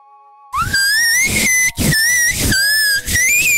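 A person whistles loudly and close up, imitating a flute in a Pokémon video game, a shrill wavering tune of several sustained notes broken by short breaths.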